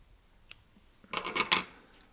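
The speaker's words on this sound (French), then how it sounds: "Je coupe l'excédent." Scissors trimming excess material while tying a light nymph fishing fly, one faint snip followed by a quick cluster of sharp close cuts, alone in a quiet room.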